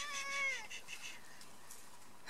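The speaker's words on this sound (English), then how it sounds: "This is one of our rescue cats." A rescue cat meows several times in quick succession, close and fairly clear, with the calls fading into quiet background noise toward the end.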